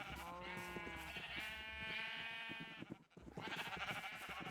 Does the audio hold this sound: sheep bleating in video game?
yes